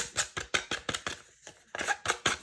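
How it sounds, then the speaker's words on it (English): Open scissor blades scraping along the edges of a paper craft tag to rough them up, a quick series of about a dozen close, crisp rasping strokes with a short pause in the middle. "I'm just going to rough up the edges of the tag just a little bit, just open up my scissors"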